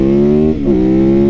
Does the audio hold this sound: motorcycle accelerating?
yes